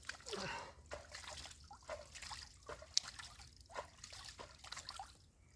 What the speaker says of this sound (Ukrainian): Пускаємо воду.